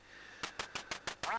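Duck quacks from the NES game Duck Hunt sound as five crisp electronic quacks in a quick, even rhythm, followed by a short warbling tone, loud and close with no voice over them.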